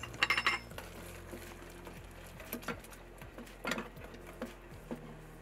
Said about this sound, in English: Stir it well to combine and cook for another minute.